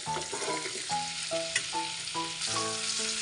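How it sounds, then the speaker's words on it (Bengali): Salt and whole garlic cloves sizzle steadily in hot oil while being stirred, with scraping strokes and bursts of frying for pickled nut relish, close and continuous with no talking. "লবণ আর রসুন দিয়ে একটু নেড়ে ছেড়ে নিব।"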